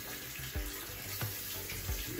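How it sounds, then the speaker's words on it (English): Running water from a kitchen faucet rinses grimy Delta single-handle valve cartridge parts, a steady splashing stream with a few clunks as the pieces shift under it, close and moderately loud. "I'm gonna go ahead and wash off both of these parts."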